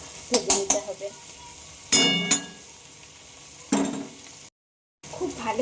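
Ash gourd and tomato being stirred and fried in a pan, with short bursts of spatula clinks and scraping against metal over a light sizzle, separated by quieter gaps.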